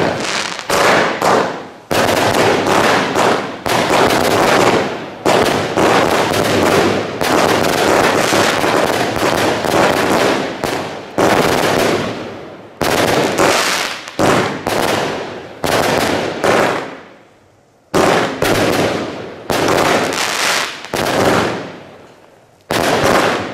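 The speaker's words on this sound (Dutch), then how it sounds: "Gratis vuurwerk is altijd mooi." Fireworks and firecrackers going off from a whole pack lit at once, a loud dense barrage of rapid crackling bangs in long bursts separated by brief pauses, with a final few isolated pops.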